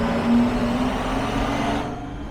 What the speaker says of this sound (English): let's downshift anyways